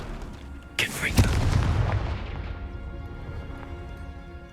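A Confringo fire spell explodes in Hogwarts Legacy, a sharp burst followed by a second blast and a rumbling roar that slowly fades, with game ambience underneath.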